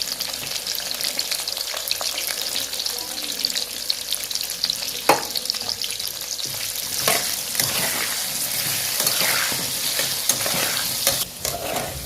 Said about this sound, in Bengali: এই যে নুন আর হলুদ দিয়ে আলুগুলোকে লাল করে ভেজে নেবো